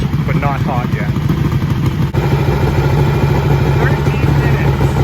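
Close, loud motorcycle engine idling steadily after warming to operating temperature before winterizing, a continuous mid-pitched rumble with light mechanical clatter, while someone talks over it.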